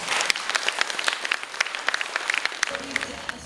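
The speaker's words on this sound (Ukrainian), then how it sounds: "я думаю, що діти варті того, аби ви нагородили їх гарними оплесками" An audience in a school hall claps for children from a special boarding school, a brisk burst of applause of separate claps that thins out toward the end.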